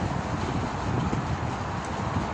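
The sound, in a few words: strong wind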